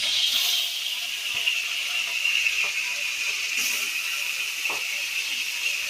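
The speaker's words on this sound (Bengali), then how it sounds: "তো এই 4 পিস ইলিশ মাছ ভাজতেছি আমি" Four marinated hilsa fish pieces frying in hot oil in a pan in a village kitchen, a continuous close hiss of sizzling with occasional small pops and crackles.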